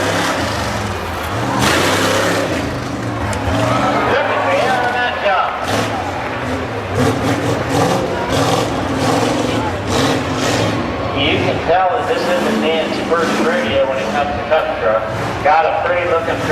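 A rough-terrain racing truck at a Tuscarawas County event throbs with a loud, uneven engine roar that surges and revs through a turn, while an announcer talks over it continuously.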